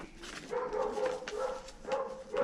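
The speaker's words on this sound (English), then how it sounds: "Don't you start barking, laddo." A dog barks and whines in a series of short, fairly close yelps and woofs with a whimpering tone, several bursts in quick succession, with no talking.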